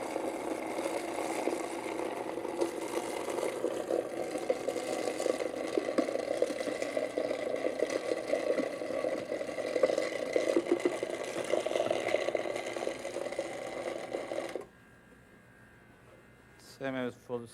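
A food processor runs steadily, blending pike puree with eggs and whipping cream for a seafood mousse, a loud continuous whirring that stops abruptly near the end, followed by brief voices.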